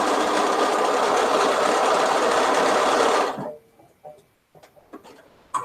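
A sewing machine stitches a reinforcing seam on a stuffed memory bear, a close, loud, steady whir for about three seconds that then stops, followed by faint handling noises.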